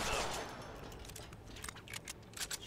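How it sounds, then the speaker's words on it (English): Gunfire in the Deadpool video game, a brief loud burst fading into scattered lighter shots and clicks, fairly faint overall with no talk. "I am shooting you!"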